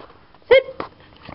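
A pet dog lets out a single short, high whimper close by, with a faint thump just after it in an otherwise quiet room.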